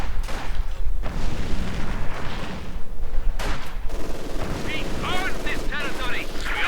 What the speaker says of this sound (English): heavy machine gun fire quickly stopping a conscript squad